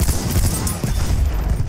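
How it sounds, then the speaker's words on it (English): Mortar fire in Battlefield 1 online multiplayer, a loud, dense barrage of rumbling blasts and crackling impacts heard close up, continuous over a short span. "someone is using mortars"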